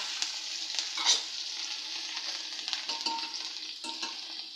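Turmeric, a pinch of asafoetida and chopped green chillies sizzle in hot oil in a pan, with a spoon scraping and stirring through them in irregular strokes over a steady close frying hiss.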